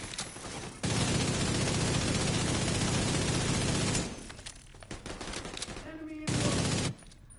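Sustained automatic gunfire in The Division 2, a dense continuous burst for about three seconds, a pause with scattered shots and muffled game sounds, then another short heavy burst near the end.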